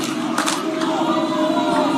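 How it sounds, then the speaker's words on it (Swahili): Crowd at a 60th Labour Day celebration at Uhuru Gardens clapping and cheering to welcome President Ruto, a broad continuous roar of applause with scattered shouts and a murmur of voices. "Hebu tumkaribishe kwa makofi"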